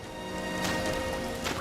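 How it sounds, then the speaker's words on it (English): Steady, dense rainfall in the game Sky: Children of the Light, a continuous hiss of falling drops with a faint musical tone underneath, close and even throughout. "Because the rain does wash away your light."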